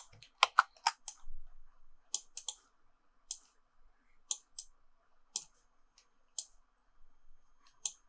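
Sparse, crisp keystrokes on a computer keyboard while entering settings for an Unreal Engine 5 main menu, coming in short irregular runs of clicks with quiet gaps between them, close and alone.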